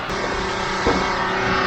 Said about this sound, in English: It's literally full throttle right now.